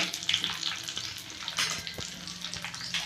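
Cumin seeds and curry leaves crackle and sizzle in hot oil in a pan for ven pongal, giving faint, busy spattering with a few sharper pops and no voices.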